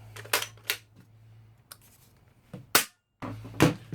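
Spring-powered dart blaster fitted with a K26 spring being primed and dry-clicked without firing: several sharp mechanical clicks and snaps, close and fairly loud, spread unevenly over a few seconds with quiet gaps between.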